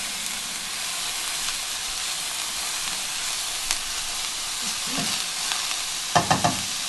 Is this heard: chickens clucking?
no